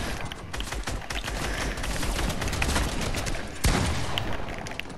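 Dense, continuous gunfire from an enemy in Fortnite, rapid overlapping shots crackling throughout, loud and steady, with a sharper burst near the end.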